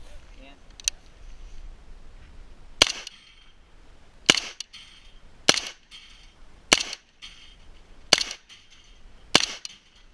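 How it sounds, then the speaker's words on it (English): Arsenal SLR-104FR rifle fired with its stock folded at 10-inch steel plates about 15 yards away: six sharp, loud reports spaced roughly a second or more apart, preceded by a fainter click, with quiet gaps between shots. "here is some footage of me firing the gun with the stock folded"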